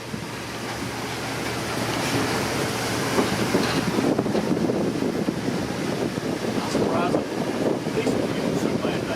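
A 1940 vintage train running on rails along a scenic river railroad, heard from aboard as a continuous loud rumble and clatter with wind buffeting the microphone.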